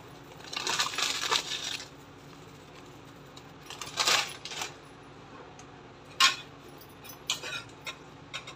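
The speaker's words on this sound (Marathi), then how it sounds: "फ्राय केलेली चण्याची डाळ, आणि शेव टाकून घेऊया थोडे" Fried chana dal and sev tipped into dry bhel, with several short bursts of crisp rattling and pattering as the pieces land in a bowl, separated by quiet gaps and heard up close.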